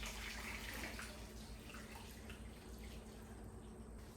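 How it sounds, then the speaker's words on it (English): Boiling water pours steadily into a canner over jars of homemade pickles, a continuous close rushing splash that holds for about four seconds with no talk. "we're going to add boiling water"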